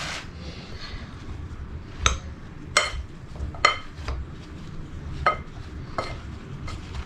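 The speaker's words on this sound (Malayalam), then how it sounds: "നന്നായിട്ട് ഇളക്കി യോജിപ്പിച്ചെടുക്കാം." Mango pickle being stirred with chili powder and turmeric, a spoon scraping and clinking against the pot at uneven intervals, about seven sharp taps over a soft, steady background rustle, close and moderately loud, no talking.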